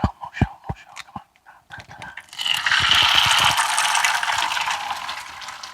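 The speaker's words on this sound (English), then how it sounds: "Nice sizzle." An egg frying in a pan with a ring mold for an Egg McMuffin, a steady hissing sizzle that rises after a few sharp clicks and clatters and carries on to the end.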